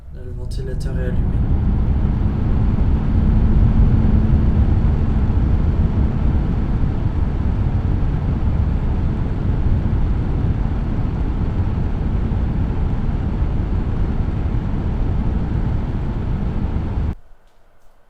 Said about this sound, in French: Là, le ventilateur est allumé.